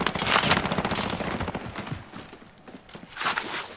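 Rapid bursts of automatic gunfire from a Warzone gunfight crackle densely through the opening seconds, thin out briefly, then flare up again near the end, loud and close without any talk over them.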